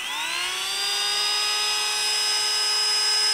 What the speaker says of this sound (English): It just uses the Milwaukee drive, but it's called the PowerPoint tungsten grinder.